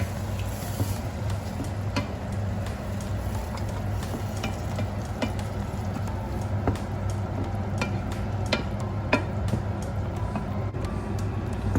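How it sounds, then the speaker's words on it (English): Chopped tomatoes stirred into a simmering Georgian beef soup, with irregular scrapes and knocks of a spoon against the pot over a low bubbling sizzle, close and with no talking. "Chopped tomatoes in. Let's give it a good stir."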